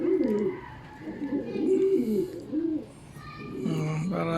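Racing pigeons coo in a loft, several soft, rolling, throaty calls overlapping close by in a steady rhythm, with faint background sounds and little talk.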